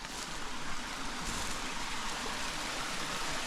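Water of a stream flowing near a lagoon on a rural farm with willows in central Portugal, a steady broadband rush that stays continuous and fairly loud throughout, heard from close by with no talking.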